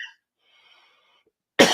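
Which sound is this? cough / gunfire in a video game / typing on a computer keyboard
cough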